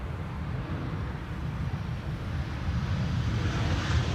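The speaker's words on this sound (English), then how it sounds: "KLM, arriving from Zurich, flight 1918." A KLM airliner arrives from Zurich at Schiphol, its low jet rumble building gradually as it nears, steady and moderately loud with no one speaking.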